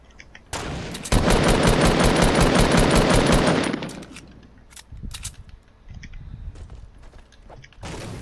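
Sniper rifle fire in the Fortnite video game: a loud, dense burst of game gunfire and mechanical clatter lasting about three seconds, then quieter clicks and thuds, with another loud burst at the end.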